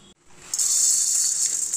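Black peppercorns, about 25 grams, crackling as they dry roast in a pan, a steady dense sizzle that picks up after a brief dip and holds fairly loud and close with no talk.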